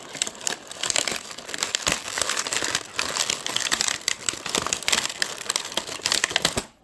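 Sticky tape being peeled and crinkled off a plastic Hello Kitty charms kit container: a close, continuous run of crackly rips and crinkles with sharp little snaps, steady for several seconds before stopping.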